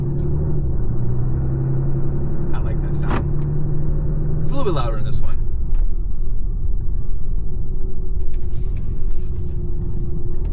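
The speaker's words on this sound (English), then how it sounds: "this engine is a little bit louder, just a little bit" A deep, steady diesel engine rumble from a 2025 RAM 3500 HO Cummins pickup truck with an 8-speed ZF transmission drones throughout, with a brief rising whine partway through and faint mechanical rattles over the low hum.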